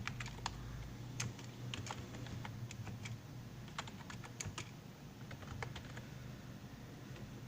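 Fingers type on a computer keyboard while entering text into an Excel spreadsheet, making a steady run of light, close key clicks over a low background hum.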